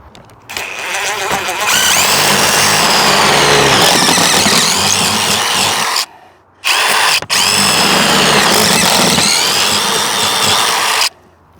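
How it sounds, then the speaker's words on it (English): A power drill runs loud and steady, whining as it bites into a boat hull while drilling mounting holes for an electric trolling motor, with two brief pauses before it starts up again. "as you're drilling these holes to actually vacuum out the inside"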